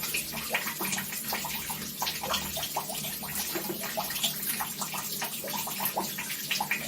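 Water leaking down from an upstairs flat runs steadily with a constant splashing hiss and fine dripping texture, loud and close, with no talking.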